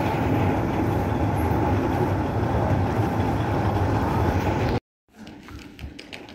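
A steady, loud rumble of a train rolling past dominates, then cuts off abruptly, leaving quieter clanks and ambient station noise.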